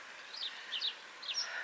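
Birds chirping outdoors in a sunny garden: three quick clusters of thin, high chirps at a moderate distance, with quiet, still air between them.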